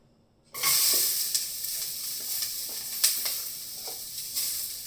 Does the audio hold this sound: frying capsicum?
yes